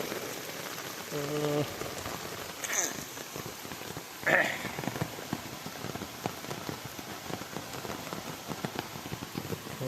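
Rain falls steadily in a village on a rainy day, a dense even patter close by, with brief voices and a few small knocks over it.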